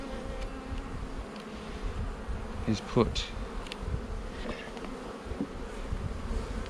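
Honey bees buzz steadily in a dense, close drone while a beehive is opened for inspection, with a few brief louder passes near the ear and a short murmured word from a person.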